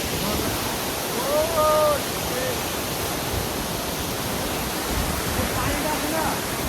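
Water falls between stones in a lake park water feature in Riyadh, making a steady, even rush of broadband noise from start to end, with faint voices in the background.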